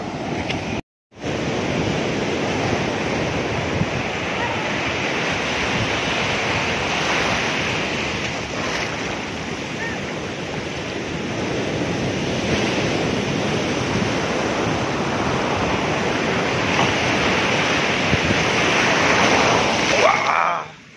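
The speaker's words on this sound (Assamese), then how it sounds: "এয়া সাংঘাতিক ঢৌ আহিছে এতিয়া" Big waves break on a Bay of Bengal beach at Mahabalipuram in a loud, continuous roar of surf with wind rush. The sound fills the whole stretch and cuts out only briefly near the start.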